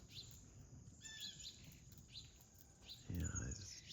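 Outdoors in a natural yard with squirrels about, several birds chirp and tweet in short, scattered calls at moderate distance, with a louder, closer burst of calls near the end.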